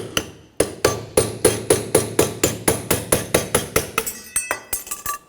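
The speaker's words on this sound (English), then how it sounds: "Now we're just taking off the bearing cover here." A hammer strikes metal on a Honda Ridgeline front wheel bearing cover, about twenty sharp, close blows in a steady rhythm, speeding into quicker, lighter taps at the end.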